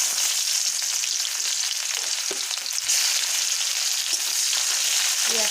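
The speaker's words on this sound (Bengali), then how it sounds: "দেখুন এবার আমি পেঁয়াজটা দিয়ে দেব।" Onions hiss and sizzle steadily in hot oil in a kitchen pan, with a few stirring scrapes and clicks. There is no talk.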